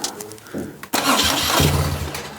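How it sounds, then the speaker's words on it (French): Starter motor cranking a BMW R1200GS air-cooled motorcycle engine, a brief whir that catches into a loud, steady idle with a low throbbing drone, recorded close up. "on va mettre un petit coup de démarreur quand même pour être sûr que ça fonctionne"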